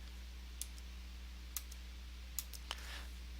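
Four faint, sharp clicks of computer keyboard keys being pressed for a Control D shortcut, spaced irregularly over a steady low hum with no talking.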